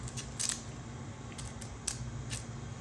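A small piece is cut off faux polymer clay while making Halloween sprinkles, heard as four or five faint, crisp snips spread over a low steady hum.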